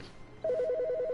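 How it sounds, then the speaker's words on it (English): A telephone in The Stanley Parable video game begins ringing partway through, a fast warbling two-tone electronic trill that continues steadily and clearly over quiet room tone. "It's a phone ringing."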